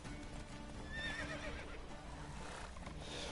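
Roach the horse in The Witcher 3 lets out a clear, quavering whinny near the middle, over a steady background of hoofbeats and game ambience, with no voices.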